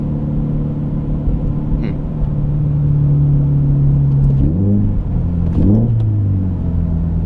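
A 2013 Subaru BRZ Premium with a six-speed manual drones loudly and steadily under acceleration, its engine note climbing, then dipping and swelling again through revs and shifts near the end.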